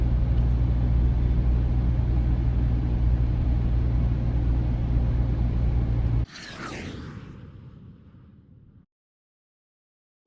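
Steady low road rumble and tyre noise inside a Mahindra Scorpio-N cabin while cruising on a highway, heard at ear level for about six seconds before an abrupt cut to fainter whooshing noise that fades to silence.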